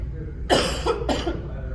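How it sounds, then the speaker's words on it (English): Two hoarse coughs in quick succession, close and fairly loud, over a low steady background hum. "y'all are gonna have to bear with me while I cough"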